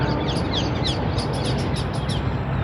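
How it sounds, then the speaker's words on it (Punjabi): Morning farm fields carry various birds calling, with several quick high chirps and tweets repeating at a distance over a steady, loud rush of wind or background noise. "ਪੰਛੀਆਂ ਦੀਆਂ ਆਵਾਜ਼ਾਂ ਤੁਹਾਨੂੰ ਸੁਣਦੀਆਂ ਹੋਣੀਆਂ ਪਿੱਛੇ"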